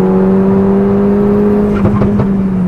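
A tuned Volkswagen Jetta engine drones loud and close with a steady, held rev, then a short cluster of sharp exhaust crackles and pops near the end.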